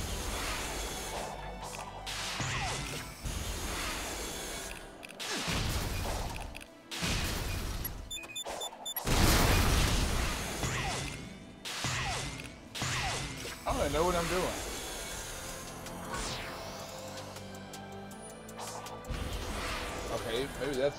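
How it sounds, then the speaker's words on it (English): Repeated loud blasts and crashes from explosions in the video game Sonic Frontiers, arriving in irregular bursts among clattering game effects, with a voice talking over parts of it. "Alright, so we know explosions hurt."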